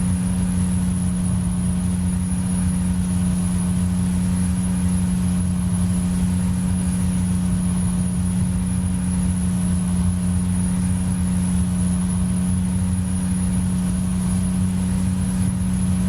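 Steady truck engine drone in American Truck Simulator, a constant low hum with a faint high whine, even and unchanging throughout with no speech.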